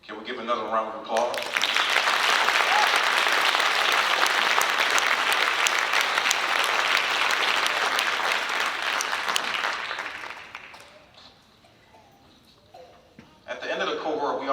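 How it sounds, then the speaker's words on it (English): A graduation ceremony crowd at the Columbus Urban League bursts into loud, sustained applause that runs for about nine seconds before fading out, with a speaker talking briefly before and after it. "Can we give another round of applause?"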